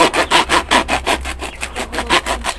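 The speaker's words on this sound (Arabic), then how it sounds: "اولا تسمعوا معايا القرمشه كيفاش كيجيو" Crispy homemade bread rolls fresh from the oven crunch and crackle in a rapid, rhythmic series of rasping, scraping bursts, close and fairly loud, with no talking.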